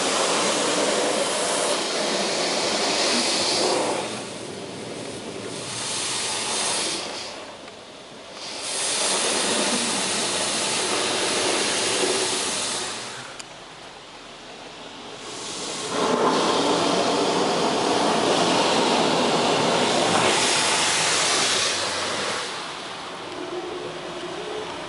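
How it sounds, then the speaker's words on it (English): Automatic car wash high-pressure rinse jets spraying a car, a loud broadband hiss that swells and fades in long sweeps as the spray passes over, with no talking. "we're going for another round of the high pressure rinse"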